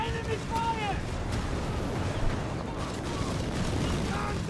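Dense, continuous rumble of battle in Company of Heroes 3, with scattered bursts of gunfire and mortar booms, steady and fairly loud throughout, with voices faintly mixed in.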